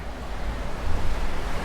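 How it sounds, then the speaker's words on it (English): Sea water surges into a coastal cave near Arecibo, Puerto Rico, a continuous low roar of rushing surf that swells slightly toward the end, heard alone without voices. "where the water is coming into the cave."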